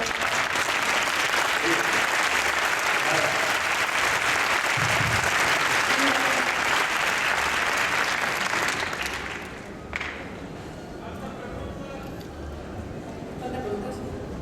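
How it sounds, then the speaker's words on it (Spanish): Loud, dense audience applause at a book fair fills the room steadily for about nine seconds, then drops off sharply and fades into quieter crowd murmur and scattered claps. "Un aplauso para esto."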